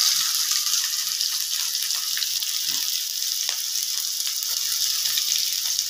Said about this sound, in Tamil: இஞ்சி பூண்டு பேஸ்ட் வதங்கிருக்குது